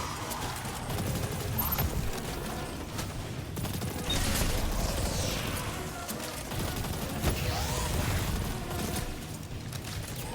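Sustained enemy gunfire rattles through a busy video game firefight, dense bursts and volleys layered over constant game noise and effects for the whole stretch.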